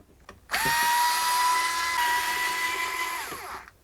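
A power drill whirs steadily for about three seconds with a rising start and a tapering stop, backing screws out of a Traxxas TRX-4 RC crawler chassis fitted with a Defender body; close and loud, no talking.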